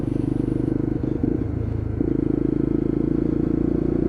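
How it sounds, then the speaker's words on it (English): A Lexmoto LXR 125cc Euro 5 motorcycle's exhaust drones in a deep, throaty, steady note close by. The pitch wavers briefly midway, then settles back to an even, sustained rumble. "But just listen to that exhaust, doesn't it sound good? A lot deeper and throatier than the original LXRs."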